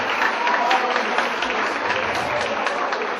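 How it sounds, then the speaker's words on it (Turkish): Steady, somewhat muffled applause from the crowd at a village association evening, a continuous wash of clapping at moderate level with some murmuring mixed in. "Kurucu başkana bu kadar alkış olur mu arkadaşlar?"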